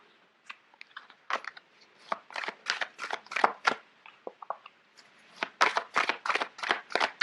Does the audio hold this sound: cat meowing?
no